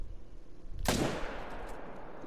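A single sharp crossbow shot at a piebald moose in a hunting video game, a sudden loud snap that rings out and fades over the quiet outdoor ambience.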